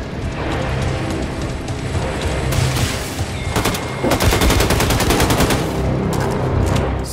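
Sustained bursts of Sturmgewehr automatic rifle fire in Wolfenstein II: The New Colossus, loud and rapid, with rattling volleys continuing almost without pause.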